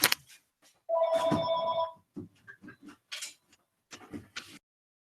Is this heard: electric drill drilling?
no